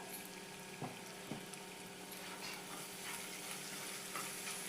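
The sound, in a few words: pabda fish jhal frying in pan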